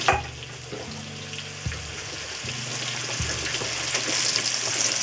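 Beef rump searing in a pot, a steady close sizzle and crackle of frying meat that grows slightly louder toward the end, with a low hum running underneath.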